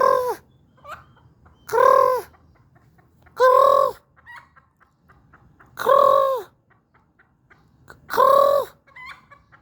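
A hen clucks in five separate loud bursts spaced about two seconds apart, with quiet pauses between them and no other sounds.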